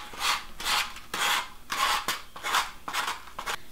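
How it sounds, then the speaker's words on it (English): Rhythmic rasping strokes of sandpaper on the rough edges of wooden bed frame legs, about eight back-and-forth passes, close and steady with brief pauses between them. "So now we are going to sand these rough edges off of our legs"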